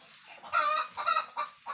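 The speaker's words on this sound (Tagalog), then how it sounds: "Yung manok pa ng ingay-ingay" A backyard chicken clucks noisily in a few close, loud bursts, with short pauses between the calls.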